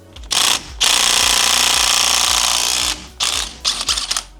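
A DeWalt power tool cuts with a loud, close, continuous roar for about two seconds, bracketed by shorter bursts as it starts and stops.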